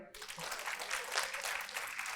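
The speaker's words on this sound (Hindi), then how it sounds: "बच्चों के लिए तालियां बजा दो" A seated audience at a spiritual camp claps for a group of children, a fairly faint, continuous patter of hands with a few voices murmuring underneath.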